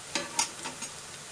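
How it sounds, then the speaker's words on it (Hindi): Onions and chicken fry in a pan for chicken rogan josh, a faint sizzle punctuated by a few soft stirring clicks over a short moment. "अब इसमें हम लोग मिलाएंगे अपना चिकन और इसको साथ में तलेंगे"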